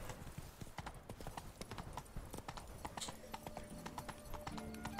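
A horse's hooves clip-clop in a steady walking rhythm through The Witcher 3: Blood and Wine, close and fairly loud, with faint game ambience and a few tonal music notes near the end.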